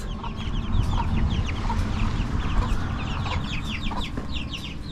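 A flock of chickens clucks continuously inside a plastic polytunnel, with overlapping chirpy calls from several birds, some near and some further off.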